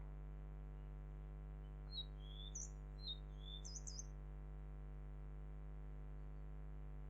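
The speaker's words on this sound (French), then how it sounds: "focalisez toute votre attention sur le chant des oiseaux" A few short, high bird chirps and tweets scattered over several seconds, faint and distant above a steady low electrical hum.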